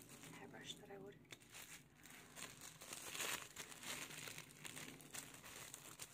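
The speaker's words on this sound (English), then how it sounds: "I'm going to be unwrapping this new hairbrush that I ordered." Soft crinkling and rustling of packaging being opened around a new wooden hairbrush from Eco Green Living, close and quiet, with a soft-spoken voice talking through much of it.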